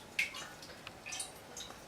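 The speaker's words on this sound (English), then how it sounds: "you're going to go ahead and pour your cooking oil" Cooking oil pours into a pot while roux is being made, giving a faint, soft liquid trickle with a few small splashes close by.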